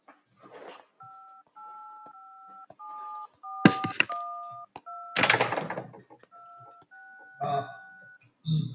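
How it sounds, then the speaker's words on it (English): Phone call dialing tones: a sequence of short paired touch-tone beeps in an uneven rhythm, broken by a few louder thumps and bursts of noise, with a faint voice in places. "So Summer Sus Baby unlocks the phone, opens up the phone, and calls Ratboy."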